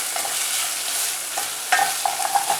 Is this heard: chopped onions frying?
yes